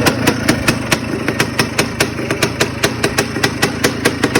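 Freshly rebuilt 2006 Yamaha Blaster ATV two-stroke engine idling up close, a loud steady popping putter with regular sharp firing pulses and no voices.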